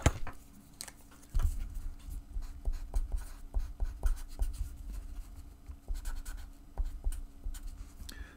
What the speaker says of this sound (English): So let me write that down so I don't forget.